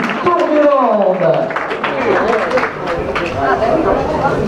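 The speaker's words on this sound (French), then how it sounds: "on peut les applaudir très très fort, mesdames et messieurs" Crowd applauding riders at a cycling time trial in Geaune during the 2019 Tour des Landes, steady outdoor clapping and chatter mixed under a nearby announcer's voice.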